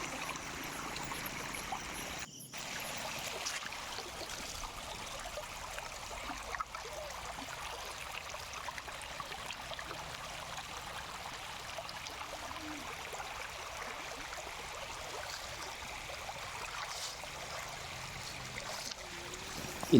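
A river stream flows over stones in a rocky riverbed, a steady broadband rushing and trickling that continues evenly throughout with no talk.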